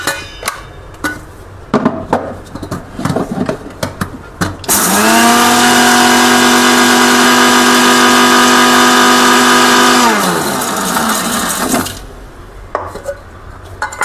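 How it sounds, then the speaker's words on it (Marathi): A kitchen mixer grinder spins up on flaxseed alone, whirring loudly and steadily for about five seconds before winding down, with clattering knocks and handling of the jar before and after. "पहिले फक्त जवसाला एकदा फिरून घेऊ आणि नंतर दुसरं टाकू."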